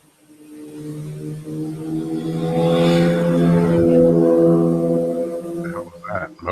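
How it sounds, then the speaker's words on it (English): A sport motorcycle swells in from a distance, its engine whine building to a loud peak before fading away as it speeds past, with some faint noise at the end. "Sound like somebody did a drive-by on a crotch rocket."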